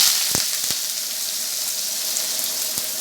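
Chopped onions frying in hot oil in a pan give a loud, continuous sizzle, broken by a few sharp crackles as they hit the oil and are stirred.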